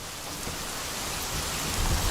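Heavy rainstorm over Bombay, a steady dense roar of rain with low thunder rumbling underneath, swelling slightly louder toward the end, no voices.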